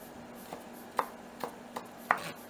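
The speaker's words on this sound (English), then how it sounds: "I'm just going to run my knife over my white onion." Knife chopping and mincing a white onion finely on a board, with several separate crisp chops, spaced irregularly and close by; there is no talk.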